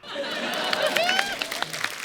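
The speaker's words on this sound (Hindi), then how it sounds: "तालियां" A crowd applauds in a steady wash of clapping, with chatter and a few raised voices mixed in.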